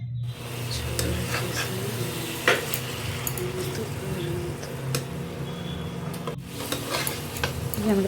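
Red sauce pasta with coriander being stirred in a pan, a steady low sizzle under repeated spatula scrapes and soft clacks against the metal, fairly close.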